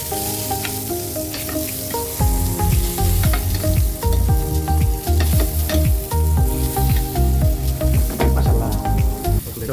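Eggplant fries in oil in a pan, a steady loud sizzle broken by repeated scraping and clattering as it is stirred.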